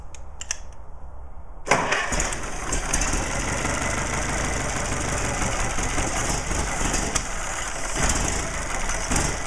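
A click and short noises give way to a stock Ford Model T engine cranking over repeatedly without fuel, a rough, steady mechanical churn that continues without catching.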